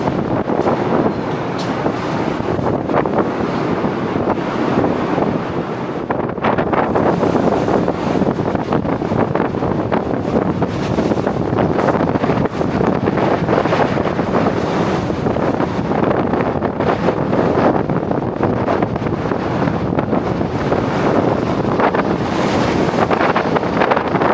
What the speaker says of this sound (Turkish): öf öf ciddi sivel yiyoruz sancak taraftan